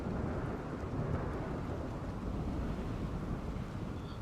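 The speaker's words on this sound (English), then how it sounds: "Oh, it's raining." Steady, dense rain in the video game Rimworld, a loud continuous wash of noise with a low rumbling undertone throughout, and no voices.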